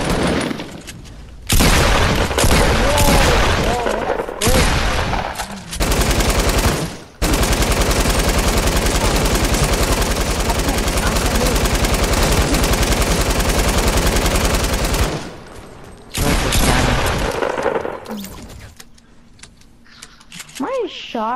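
Gunfire in the video game Fortnite comes as long, loud bursts of rapid automatic shots broken by short pauses, with players talking between the volleys.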